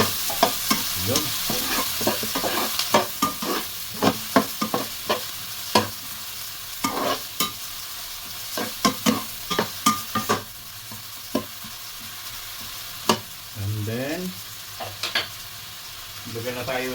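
Onion and ginger sauté with beef tongue in a pan, a steady low sizzle under repeated sharp clacks of a spoon stirring against the pan, close and fairly loud with no talking.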